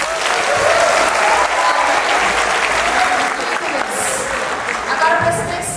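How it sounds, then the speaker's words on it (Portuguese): A church evangelism-school group applauds its small-group leaders, a loud, steady burst of clapping from the gathered crowd that holds throughout with faint voices mixed in. "Salva de palmas para os líderes."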